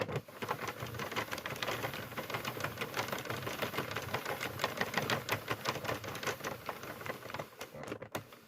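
A Sentro circular knitting machine being cranked to knit a 46-stitch panel gives a steady, fast mechanical clicking and rattling that runs evenly throughout at moderate volume.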